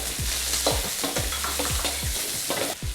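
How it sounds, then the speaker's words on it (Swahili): Onions and carrots sizzle and crackle in a little hot oil, with a steady frying hiss broken by repeated stirring scrapes at a regular pace, close and moderately loud with no talking. "Tunaanza kukaanga vitunguu vyetu. Tutavikaanga kwa muda kidogo ili kama vibadilike rangi pamoja na carrots."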